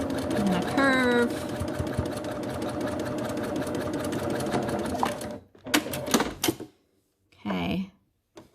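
A sewing machine runs steadily for about five seconds, back stitching a children's fitted mask with a nose wire casing, then stops and gives a few short bursts, with brief speech mixed in.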